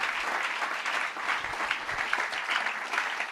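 A church congregation claps in sustained, dense applause that holds steady for the whole stretch, with a crowd murmur beneath it.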